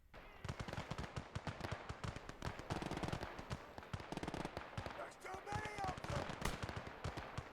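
Rapid gunfire from the World War II video game Gates of Hell, with dense overlapping shots and sharp cracks going on throughout, loud and close, mixed with faint voices.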